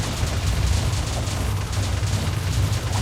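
A dense, rumbling roar of a spell blast in the Tensura: Advent of Magic video game fills the whole stretch, loud and sustained with crackling layered booms and no clear pause.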